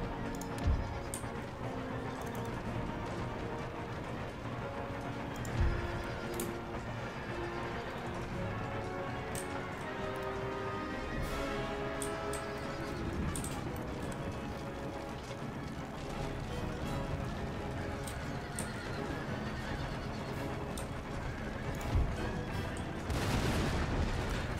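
Galloping cavalry horses in the battle game Empire: Total War, a dense, steady rumble of hooves mixed with scattered musket volleys and distant cannon booms across the whole stretch, with a louder burst near the end.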